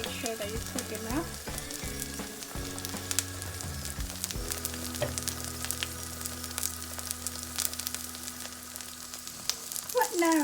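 Vegetable pancake frying in a pan, a low steady sizzle and crackle close by, with occasional clinks and scrapes and someone talking over it at times.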